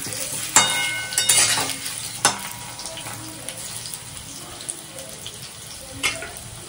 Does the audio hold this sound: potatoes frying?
yes